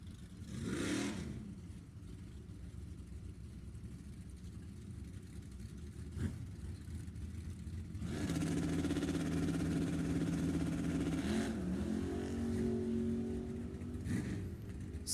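Drag race cars launch at the strip, among them an '87 Firebird, engines revving and surging loudly from a distance with a sharp burst midway and a rising roar in the second half, no voices.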